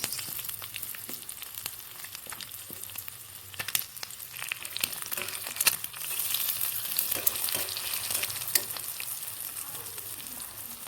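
An egg omelette for curry frying in a pan, a steady crackling sizzle with sharp pops and occasional stirring scrapes, close and continuous with no talk.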